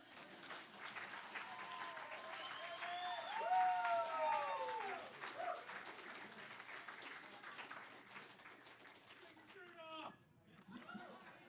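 Scattered audience clapping and cheers at a small live music performance at The Hive, moderate and fairly distant, with voices and chatter running through it and a brief lull near the end.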